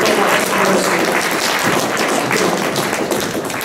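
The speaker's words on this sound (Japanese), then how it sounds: "再度上田弁護士に拍手をよろしくお願いします" An audience at a parliamentary study session applauds a lawyer with dense, steady clapping that fills the whole stretch and eases slightly near the end, with no talking over it.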